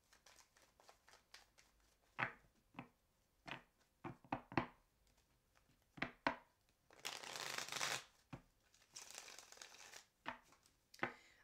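Tarot cards being shuffled by hand indoors, a series of soft riffles, taps and brief bursts of card flutter, quiet and close, with pauses between the shuffles.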